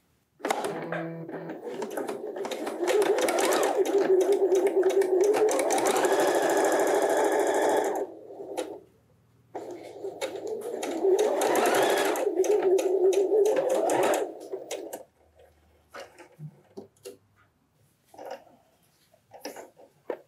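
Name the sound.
domestic sewing machine stitching patchwork fabric pieces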